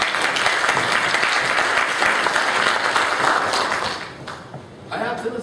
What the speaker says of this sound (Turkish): Kendinizi bir alkışlayabilirsiniz.